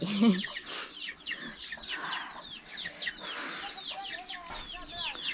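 Chickens cluck and squawk busily in a village coop in northern Laos, several birds calling close by and overlapping in quick bursts, with an occasional voice in the background.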